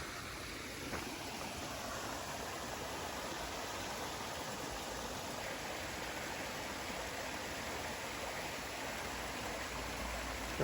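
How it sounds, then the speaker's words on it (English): Small waterfall and stream beside a hiking trail, a steady, even rush of flowing water heard from close by, unbroken and without voices for the whole stretch. "This little waterfall."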